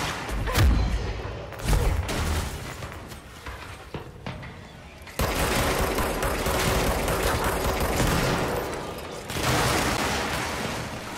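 Hip-fire gunfire in the video game Control, with scattered loud shots at first, then sustained rapid bursts of weapon fire and impacts, close and dense.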